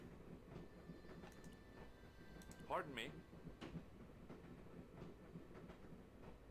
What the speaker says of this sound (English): Here we are on a train.